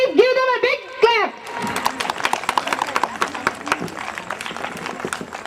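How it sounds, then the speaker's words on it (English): Children at an abacus summer camp in India clap for a correct answer. The quick, scattered claps fill the room right after a short spoken line. "Please give them a big clap"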